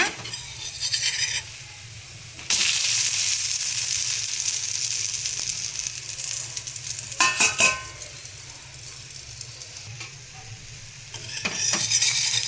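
Bun dosa frying in oil on a pan gives a steady hiss and crackle, which is louder in stretches and drops back in between, with occasional scrapes and clinks of a utensil against the pan.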